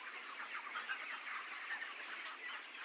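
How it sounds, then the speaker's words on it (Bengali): Young broiler chickens, about a thousand 25-day-old birds on a poultry farm by the Kalidaha, murmur and cheep in a faint, steady, overlapping chorus with no talking. "এখানে প্রায় 1000টি মুরগি রয়েছে।"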